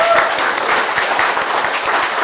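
Audience applause at a science lecture in a large hall, dense steady clapping from many hands throughout, fairly loud and even with no break.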